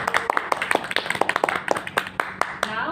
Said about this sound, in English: let's give applause to the Miss Nala.